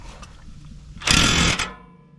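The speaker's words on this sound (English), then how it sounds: "we're going to go ahead and pull the caliper mounting bracket bolts" A power tool spins off caliper mounting bracket bolts while a GM 10 bolt axle is being worked on, a loud, buzzing half-second burst rising out of quiet garage background and then cutting off.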